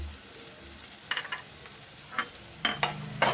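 Egg bhurji with chili, tomato and onion being stirred in a pan, a few soft scrapes and taps over a quiet sizzle, growing slightly louder toward the end.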